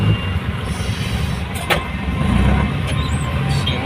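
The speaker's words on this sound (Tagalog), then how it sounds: "Ay nako, grabe traffic." Heavy road traffic in Dolores, San Fernando, Pampanga, with a steady, close rumble of car and truck engines and passing vehicles, growing slightly louder toward the end, with no talk.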